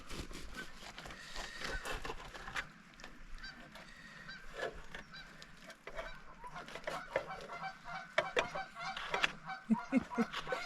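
Several geese honk repeatedly in the background, their calls overlapping and growing busier, with some scraping and handling noises nearby.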